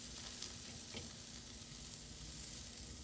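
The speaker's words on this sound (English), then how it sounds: "There's not much sizzle because it's a very low-fat meat." Quiet, even hiss of low-fat rabbit meat frying in a pan, a soft continuous sizzle with a couple of faint pops and no talking.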